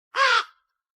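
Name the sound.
crow cawing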